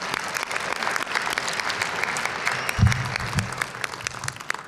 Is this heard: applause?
yes